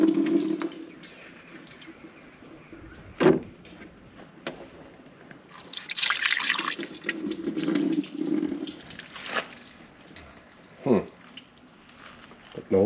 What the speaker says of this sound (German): Gieß mal direkt über den Sicherungskasten.